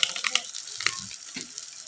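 Chilli, coriander and cumin powder masala fries in oil with a soft, steady sizzle and faint crackles, joined by a few low stirring scrapes, quiet and close.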